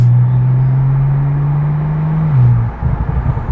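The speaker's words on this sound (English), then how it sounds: "Some downshifts, some pops and bangs." An 850 hp Porsche 911 Turbo S with a titanium valved sport exhaust, turbos and blow-off valves, holding a loud steady drone that steps down in pitch on a downshift, then breaks into a burst of rapid crackling pops.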